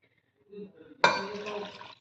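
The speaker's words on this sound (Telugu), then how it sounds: "దాంట్లోకి ఒక గ్లాస్ వాటర్ వేసుకోండి." A faint voice murmurs briefly, then a glass of water splashes abruptly into a pot of goat head curry and keeps pouring for about a second before tapering off.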